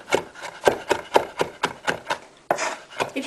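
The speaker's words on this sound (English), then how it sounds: "And the herbs is good for you, so chopped up small." Fresh herbs being finely chopped with a knife on a board, a quick rhythmic run of close, crisp cuts about five per second, briefly pausing before resuming, with no speech.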